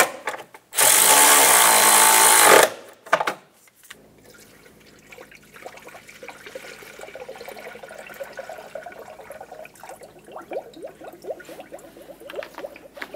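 A power tool runs in a loud burst of about two seconds while tightening nuts on the plastic thermostat cover of a 2000-2006 Toyota Tundra 4.7L V8, followed by softer clicks and handling noises.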